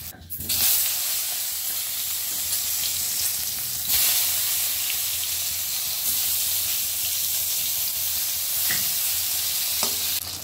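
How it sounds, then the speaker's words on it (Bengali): Eggplant pieces fry in hot oil for a traditional Bengali shukto, giving a steady, loud, close sizzle and hiss that runs the full length with little change. "বেগুন কটা আমার ভাজা হয়ে গেছে, বেগুন কটাকে আমি তুলে নিচ্ছি।"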